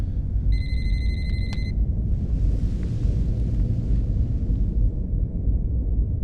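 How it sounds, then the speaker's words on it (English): A telephone rings in one short burst of bright repeated tones near the start of a crime thriller scene, over a heavy low rumbling background that continues after the ringing stops. "Answer the phone, Henry."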